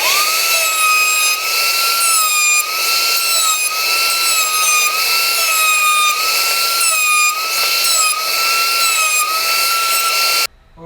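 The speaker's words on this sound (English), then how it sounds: "we're going to router all the sides" A wood router cutting along the edges of wooden toolbox side pieces, a loud, steady high-pitched whine that runs continuously for about ten seconds before cutting off abruptly.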